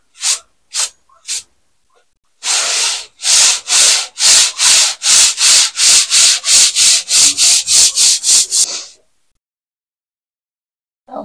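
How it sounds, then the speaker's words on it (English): Wood is hand-sanded with a 180-grit sanding block in brisk back-and-forth strokes, a few separate rasps then a steady run of about fifteen loud, close, rhythmic scrapes before stopping. "So I will go back in with the 180 with the sanding block."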